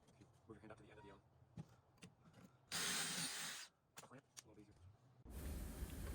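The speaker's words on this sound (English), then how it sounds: "Now I'm drilling pocket holes on the 2 sides of the cabinet box" Power drill boring pocket holes into the sides of a plywood cabinet box, two loud sustained bursts of whirring broken by a pause, with someone talking in between.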